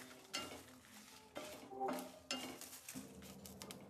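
Garlic dropped into a hot pan for curry leaf chutney, with spoon stirring and scraping against the pan in several bursts and a light sizzle underneath, close by.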